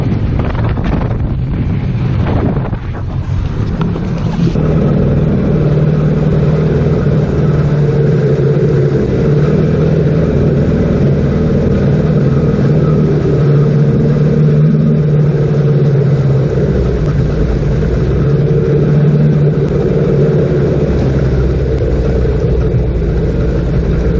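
A used jet ski engine drones loudly on the water, a sustained mechanical roar with steady tonal hum and heavy wind buffeting on the microphone, continuous for over twenty seconds.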